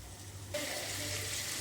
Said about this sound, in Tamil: எல்லா பக்கமும் நல்லா எண்ணெயில் வதங்கணும்.